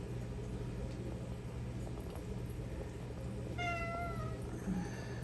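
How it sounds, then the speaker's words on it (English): A pet cat near a long community aquarium lets out a short, faint meow about midway through, over a steady hum of tank equipment. No one speaks. "That's my cat Sherlock."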